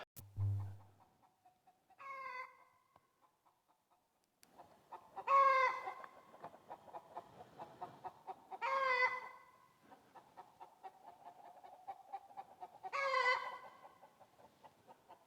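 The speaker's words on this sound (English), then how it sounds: "One of the chickens let out a big squawk down there." Several bursts of chicken clucking and squawking, with louder outbursts roughly every few seconds over a steady background of softer clucks, fairly close.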